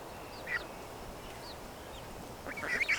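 Muscovy duck goslings give a few faint high peeps, one near the start and a brighter cluster at the end, over a steady outdoor background hiss.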